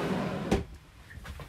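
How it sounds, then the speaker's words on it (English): A drawer in the office desk of a 2021 Airstream Flying Cloud 30FB travel trailer is pulled open, giving a short close sliding thump followed by a couple of softer knocks, with no talking. "first you pull the drawer out here"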